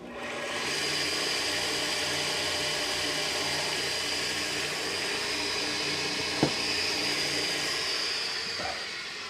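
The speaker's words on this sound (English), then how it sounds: "unstitched buffing wheel with some yellow polish" An unstitched buffing wheel charged with fine yellow polishing compound polishes a ferrule, a steady loud motorized whir with a continuous rushing hiss and one brief sharp knock near the end.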